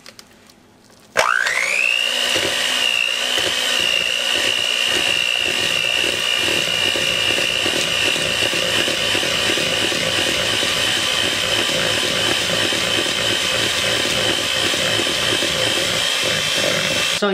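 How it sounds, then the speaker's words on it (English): An electric mixer beats cream cheese, egg and almond extract in a bowl, whirring to life after a quiet second and then running at a loud, steady pitch with a rattling grind, close and unbroken, with no talk. "I'm going to beat this until smooth"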